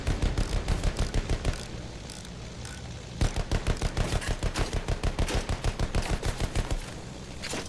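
Rapid automatic gunfire from Battlefield 1 rattles on in two long, dense bursts of evenly spaced shots, loud and close, with a short lull between them and no talk.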